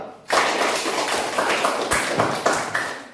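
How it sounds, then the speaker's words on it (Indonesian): A classroom group claps together to applaud Group 3, a brisk burst of dense, overlapping hand claps that starts after a brief pause and keeps going steadily at close range. "Tepuk tangan dulu untuk kelompok 3."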